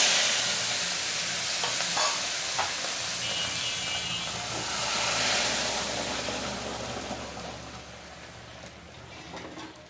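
Lentils tipped into a hot pan of oil with mustard seeds and green chilies, giving a steady broadband sizzle and hiss with occasional stirring clicks, close and fairly loud throughout.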